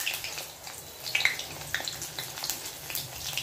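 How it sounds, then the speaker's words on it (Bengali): Luchi puffed flatbread, made from mixed wheat flour and refined flour, fries in hot oil with a faint, steady sizzle and small crackling bursts. "এটা হওয়ার পর ভাজছি লুচি।"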